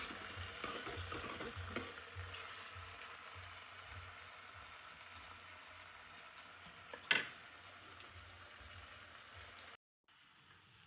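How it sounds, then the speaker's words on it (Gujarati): Potatoes, onion and tomato roast in a pan over a gas flame, giving a steady, soft sizzle and fry crackle throughout, with one sharp clink near the end and a brief drop to silence before it. "ગેસના નોર્મલી તાપમાને આપણે શેકાવા દેવાના છે બટાકા"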